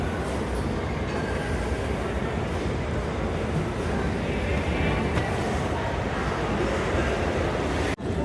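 A steady, loud rumble of a Delhi Metro train running at New Delhi station, with continuous wheel and motor noise filling the space and a brief click near the end.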